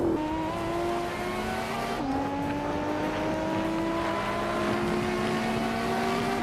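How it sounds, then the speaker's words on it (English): A 1995 McLaren F1 GTR race car screams along the track, its engine holding a high, rising whine with a quick gear shift early on, loud and continuous with no voices. "Gina Jones is racing a 1995 McLaren F1 GTR."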